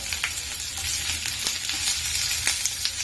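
Garlic and onion frying in a few spoons of hot oil in a pan for peanut chutney, a steady close crackling sizzle with scattered sharp pops throughout.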